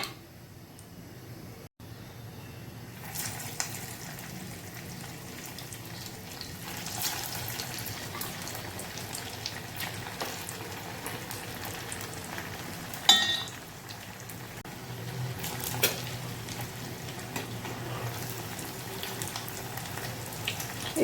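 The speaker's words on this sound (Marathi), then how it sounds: "आता आपण हे मेदूवडे फ्राय करायला घेऊ." Poha medu vada deep fry in hot oil, a continuous soft bubbling sizzle that fills the background evenly, with an occasional clink and a brief louder splash partway through.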